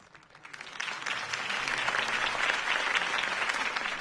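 A crowd in Batman: The Telltale Series bursts into applause that swells quickly and holds as a dense, steady wash of clapping, with no voices over it.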